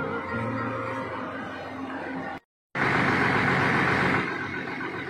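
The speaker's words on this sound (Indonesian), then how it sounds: "Kalau didengerin mesinnya ini masih mantap ya, stabil." A Budiman intercity bus engine, an IL 158 on a rare chassis, runs steadily with a loud, continuous diesel drone. The sound cuts out briefly midway, then resumes just as strong.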